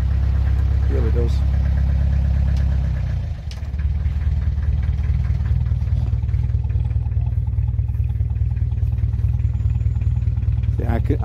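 Diesel engine running while misfiring on one cylinder, a loud continuous low throbbing idle with an uneven clattering beat. A brief dip in level occurs, and a voice talks over it.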